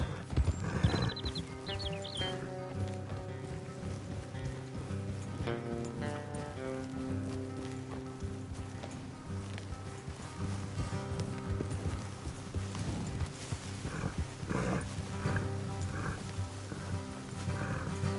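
Horse hooves clip-clop in a steady rhythm over a music score in Red Dead Redemption 2, with occasional whinnies and background game sounds throughout.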